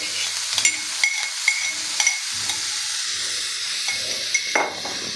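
Crushed green chilli thecha sizzles in oil on a tava, a close, steady hiss of frying broken by sharp scraping stirs and light clinks of a spatula against the pan.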